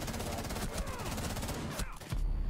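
Tachanka's mounted machine gun in Rainbow Six Siege fires a loud, sustained stream of rapid rounds, the burst breaking off briefly near the end before more gunfire follows.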